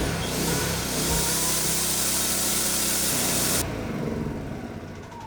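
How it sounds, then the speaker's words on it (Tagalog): A PK2500i portable generator runs with a loud, steady mechanical roar and hiss. Partway through, the brighter upper edge of the noise cuts out abruptly while a lower engine rumble carries on. "Ayan, perfectly working na yung ating generator"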